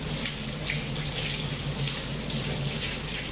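Tap water runs steadily into a sink while a cut is rinsed, a constant close splashing rush with no talk.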